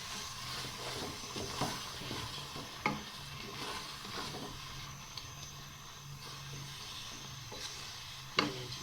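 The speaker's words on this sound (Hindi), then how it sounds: "अब अच्छे से इन सब कुछ चीज़ों को मिक्स कर लेंगे" A spoon stirs a mango murabba mixture in a pan, a soft, steady scraping and bubbling hiss with occasional light clinks against the pan.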